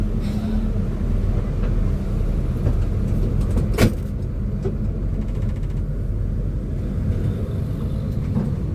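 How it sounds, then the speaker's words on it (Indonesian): A Mercedes-Benz OH1521 intercity bus drives along, its engine a steady loud rumble heard from inside the cabin, with a brief clatter partway through and no talking. "Mercy OH1521 merupakan salah satu sasis bus legend yang cukup populer di Indonesia khususnya pada era tahun 2000-an"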